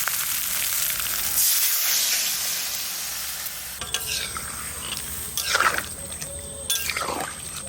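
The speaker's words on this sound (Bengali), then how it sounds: "এবার জল দিয়ে দেবো।" Water poured into a pan of browned country chicken curry with potatoes sets off a loud hiss and bubbling, with spoon stirring and a few scrapes against the pot, no voices.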